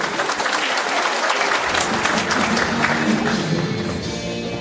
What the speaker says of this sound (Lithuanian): Dar kartą jūsų aplodismentai.